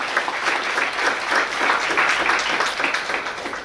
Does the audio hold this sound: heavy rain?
no